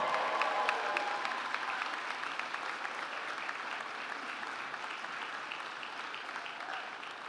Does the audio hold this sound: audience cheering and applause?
yes